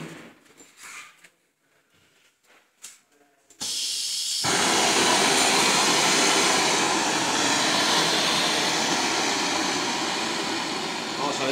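A blowtorch heats a copper pipe for soft soldering, first with brief quiet fumbling, then a sudden steady roaring hiss of flame that holds loud and close to the end.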